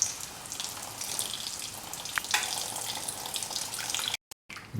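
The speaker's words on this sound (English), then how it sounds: "Pour in half a cup of water." Water is poured into a pan of sauteed, mashed tomatoes for a stew, a steady soft splashing and hiss that continues at moderate volume before a brief break near the end.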